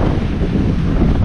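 Strong wind roars across the microphone on a sailboat running downwind, a loud, dense, continuous buffeting rumble with the wash of water beneath it and no talking.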